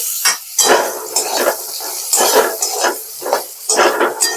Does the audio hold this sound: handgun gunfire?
no